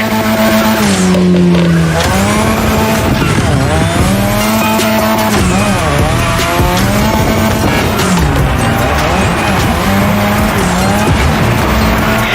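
A car in the racing game The Crew Motorfest slides around a drift track, its engine roaring loud and close while the tires squeal in long, wavering howls that rise and fall with each slide.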